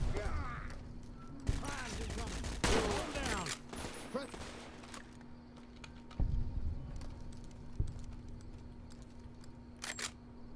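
Gunfire in a Fallout video game: a cluster of sharp shots near the start, then scattered single cracks with quieter gaps, over steady low game ambience.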